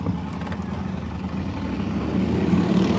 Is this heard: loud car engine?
yes